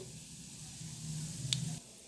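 Cumin seeds sizzle in hot oil in a pan during tempering for cucumber pickle, a soft steady hiss with a brief brighter crackle near the end.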